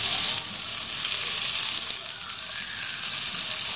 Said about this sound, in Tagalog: So, nilalagyan na po natin yung sibuyas.